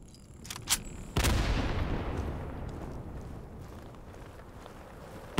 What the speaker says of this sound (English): we're getting mortared, move!